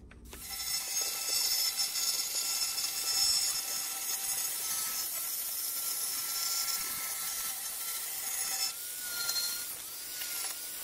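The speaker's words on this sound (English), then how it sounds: "grind the ends, well, flap disc the ends and the bottom to see where the spot welds are" A flap disc grinds the ends of a car's bottom door skin to expose spot welds, giving a steady, harsh abrasive hiss and whine that holds at a fairly even level for several seconds, close by and without talking.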